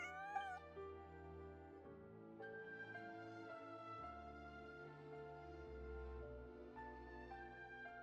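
A cat meows once in the Genshin Impact video game, a short rising cry at the start, over a steady game music backdrop that continues throughout.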